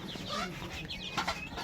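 Month-old farm chickens in a small coop cluck and cheep softly in short, scattered bursts, quiet and close, with no one talking.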